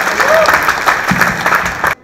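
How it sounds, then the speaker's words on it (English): An audience at an interactive session with a singer breaks into loud, dense applause that holds steady with some crowd voices before cutting off abruptly. "So big round of applause for them."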